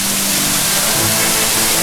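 Pelangi waterfall on Mount Salak in Bogor, a loud, continuous roar of falling water that fills the whole moment with dense, steady rushing noise and no voices.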